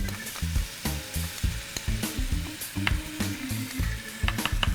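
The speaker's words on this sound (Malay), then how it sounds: "So semua bahan ni kita sautekan dengan sikit minyak zaitun as well as butter, mentega" Ginger, garlic, cinnamon bark and cloves sauté in olive oil and butter, a bright, continuous sizzle broken by repeated low knocks and scrapes of a spatula stirring the pan, close and busy throughout.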